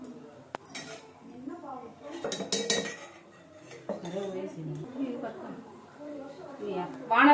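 A kadai pan set on the stove with a few distinct metallic clanks and clinks of cookware, heard close alongside someone talking throughout.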